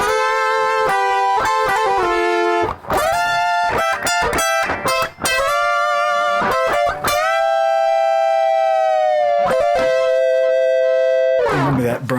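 Electric guitar run through a Boss ME-70 multi-effects pedal with harmony, compressor and distortion, playing sustained, harmonized lead notes in a layered sound, loud and close, with quick note changes and long held tones.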